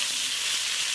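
Paneer lightly fries in hot oil, giving an even, close sizzle that stays steady with no breaks or voices.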